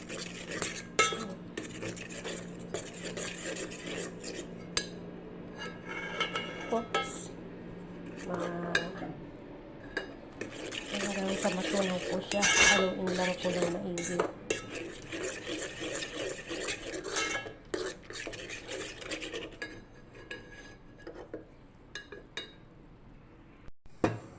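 A mixture for maja blanca being stirred and dissolved in a pot, with uneven scraping and clinking of a utensil against the metal, some faint background voices, and quieter pauses between bursts of stirring.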